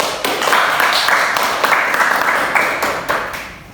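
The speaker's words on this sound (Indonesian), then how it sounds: "tepuk tangan buat kita semua." Students in a classroom lesson break into a short burst of close, choppy hand clapping that swells and then tapers off within a few seconds.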